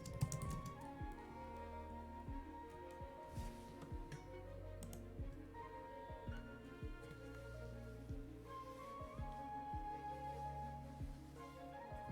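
Rapid clicking keystrokes on a computer keyboard, typing into an RPG visual novel game's on-screen text input, run as a steady patter of taps under continuous background music.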